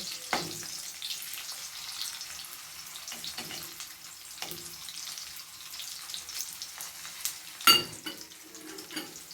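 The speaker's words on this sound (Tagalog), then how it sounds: "I-stir natin sa mantika set aside natin." Food is stirred in cooking oil in a pan, with a low frying sizzle under scattered spoon scrapes and one louder clatter of cookware, close and alone.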